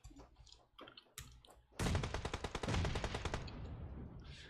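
Video game gunfire during a competitive esports match, where a player comes under fire: a few scattered clicks, then a loud, sustained burst of rapid automatic shots that tails off into quieter firing.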